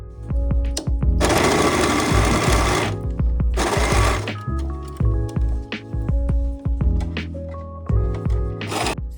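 A sewing machine attaching a collar runs in loud close bursts of rapid stitching, separated by pauses with clicks and handling knocks, the motor starting and stopping several times.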